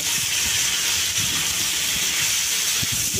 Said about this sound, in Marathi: आपण हे टमाटे पण टाकूया 2, ते पण भाजूया नरम होईपर्यंत.